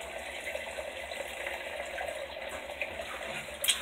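Water pours steadily into the tub of a portable washing machine sitting on a refrigerator drawer, giving a continuous close rushing splash with no voices.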